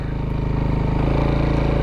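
An underbone motorcycle engine runs in fourth gear with a steady, close, loud pulsing drone and no speech.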